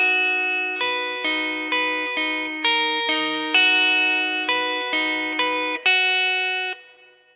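Two bars of a riff on an effects-laden electric guitar, about a dozen evenly picked, sustained notes in a steady rhythm, close and alone without talk.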